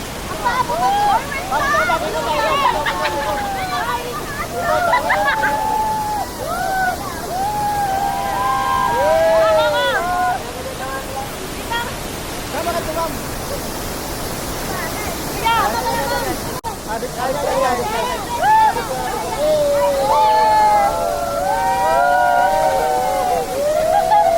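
Bolinao Falls pours with a steady, dense rush of water that fills the whole scene, while voices and chatter ring out over it now and then.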